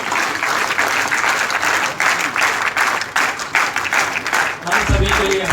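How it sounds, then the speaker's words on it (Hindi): Loud, dense audience applause welcomes guests at the closing ceremony of a Haryana literary and cultural event in India, a sustained wash of many hands clapping, close and continuous with brief dips. "जोरदार तालियों से हार्दिक अभिनंदन"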